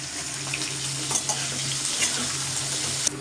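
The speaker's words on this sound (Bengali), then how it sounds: "এবারে নারকেল আর ছোলাটা দিয়ে দিলাম তাহলে ভালো করে ভাজা হয়ে যাবে" Coconut, chickpeas and ginger frying in a pan for a vegetarian banana-flower dish, a constant close bright sizzle with faint stirring scrapes throughout.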